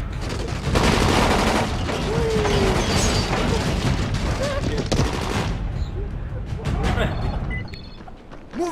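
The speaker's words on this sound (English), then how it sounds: "Shoot him!" Dense bursts of gunfire fill a loud, chaotic action scene, rapid shots layered over shouting voices, fading toward the end.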